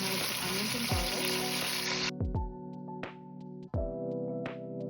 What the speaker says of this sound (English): Since that is simmering in the pot